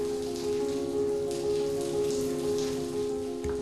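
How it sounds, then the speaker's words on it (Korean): Steady afternoon rain patters continuously on surfaces, with a faint sustained tonal hum underneath and a soft thump near the end. "때이른 더위를 식히는 비가 내리는 오후."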